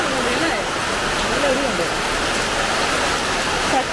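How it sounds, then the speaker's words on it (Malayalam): Heavy rain pouring down nonstop in a dense, loud hiss, with a voice faintly audible beneath the downpour. "പെട്ടെന്ന് അങ്ങ് ശക്തി കൂടി മഴയ്ക്ക്."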